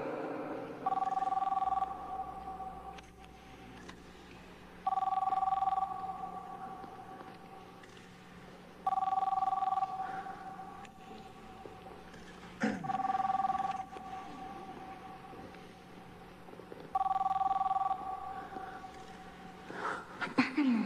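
A mobile phone rings during a wedding ceremony, sounding in repeated bursts about every four seconds, with speech murmuring quietly between the rings.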